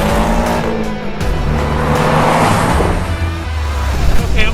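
A Porsche with a flat-six engine accelerates hard, a loud continuous engine roar rising in pitch inside the cabin with tire and road noise underneath.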